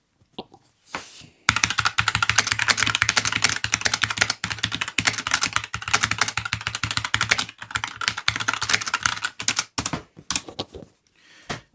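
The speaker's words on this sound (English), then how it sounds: "now I'm going to put the mechanical one there, and I'm not really typing anything, I'm just typing random bits" Rapid, clacky keystrokes on a Marvo Loot 30 mechanical keyboard, dense and continuous for about ten seconds after a brief pause, close and loud with no talking.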